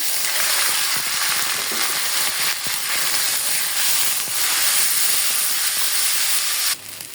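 Washed broken rice (khud) frying with onion in oil in a kadai makes a loud, dense, continuous sizzling hiss that drops off sharply near the end.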